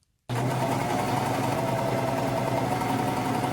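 A sewing machine runs steadily for several seconds, stitching a standard rolled hem around the neckline of a halter top made from pants; the motor's whir is close, loud and even, with no talk.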